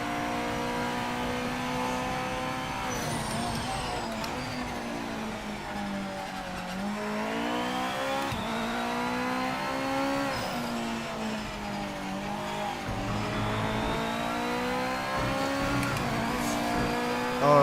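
A GT500 race car in the video game Project Motor Racing lapping a track, its engine revving steadily up and down through gear changes with occasional tire squeal, loud and continuous throughout with no voices.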